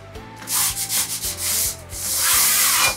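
Sandpaper rubs back and forth over a Coro foam model aircraft wing for a SPAD-X pusher trainer, a close series of rhythmic scratchy strokes followed by a longer continuous rasp, no voices.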